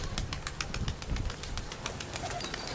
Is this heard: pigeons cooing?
yes